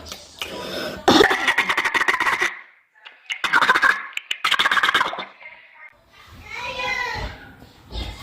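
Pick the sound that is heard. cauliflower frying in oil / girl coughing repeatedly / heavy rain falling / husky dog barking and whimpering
girl coughing repeatedly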